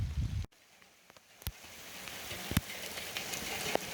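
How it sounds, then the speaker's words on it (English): Heavy rain pouring down in a garden near French beans, a steady broadband patter with a few sharper drop impacts, fairly close and continuous, after a brief moment of near silence. "It's raining very hard"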